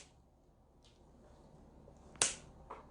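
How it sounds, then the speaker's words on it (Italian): A wooden upright snaps and shoots against a ceiling, giving a single sharp, close crack amid a quiet room, followed by a softer knock moments later. "Il rumore che avete sentito è il montante che si è sparato sul soffitto"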